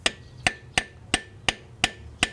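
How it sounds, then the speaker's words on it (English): A hammer taps a crankshaft seal into place on a bi-turbo Audi engine during a timing belt job: seven sharp, evenly spaced metallic knocks, close and clear, with no talk. "with the help of a hammer or a mallet, gently start tapping this in"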